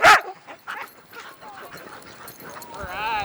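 Sled dogs at a rescue dog-sledding outfit in the snow bark and yip. One loud bark opens the clip, then scattered yips and whimpers follow, with people talking throughout.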